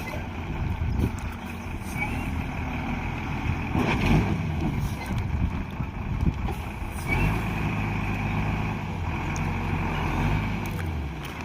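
A heavy truck creeps slowly along a driving test track at a CISF driving test, its low engine rumble steady and close throughout, with slight swells in the drone and no talking.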